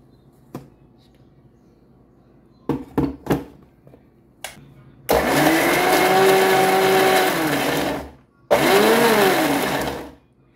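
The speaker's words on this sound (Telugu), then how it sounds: "ఇప్పుడు దీన్ని మనం కొంచెం బరకగా మిక్సీ చేయాలి" Mixer grinder coarsely grinding onion and salt for a leafy-greens onion chutney, a loud whirring motor run for about three seconds, a brief pause, then a second burst, after a few clattering knocks as the jar is set.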